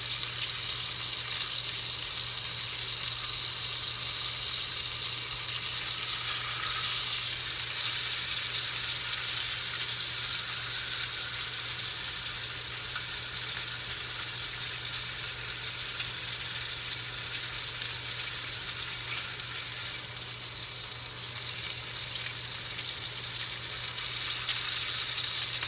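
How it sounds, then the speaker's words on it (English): A tomahawk pork chop sears bone side down in a hot pan, giving a steady, dense sizzle that holds for the whole stretch, close and loud, with a low constant hum underneath and no talking. "So once I sear the bone side of this chop"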